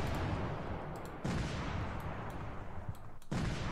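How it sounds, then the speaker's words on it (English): Bomb impacts in the war video game Command: Modern Operations, heavy rumbling blasts forming a dense, continuous roar with a few sharper onsets, loud and close. "Couple of bomb impacts there."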